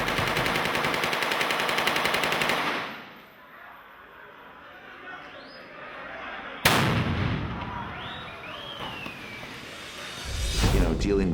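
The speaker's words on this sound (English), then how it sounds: "we're going to fire machine guns" Rapid bursts of machine gun fire on a war film set in a town with a civil war past, loud dense rattling for several seconds, a sharp crack midway, then more firing. Speech runs underneath.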